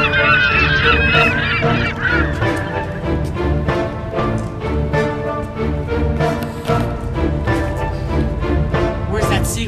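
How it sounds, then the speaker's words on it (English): Loud, near, repeated honking squawks from a large bird, called a seagull monster, blare in a steady rapid series that fills the whole clip. "Oh my god! It's a Seagull monster!"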